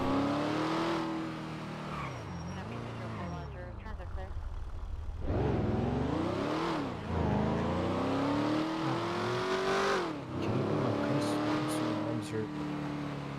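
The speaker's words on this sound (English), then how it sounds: "The car's a little loud." A police patrol car on an LAPD beat in a video game drives loud and close, its engine revving up and down in steady swells. Voices talk over the engine.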